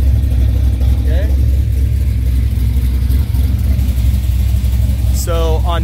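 A lowered car with dual Flowmaster exhausts and Cerakoted headers rumbles loudly and steadily at close range, engine note holding deep and constant, with brief chirps layered over it.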